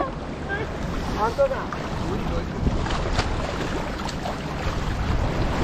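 Boat out at sea off Lakshadweep before a scuba dive: steady rushing wind and water noise with engine rumble, continuous and fairly loud, with faint voices underneath.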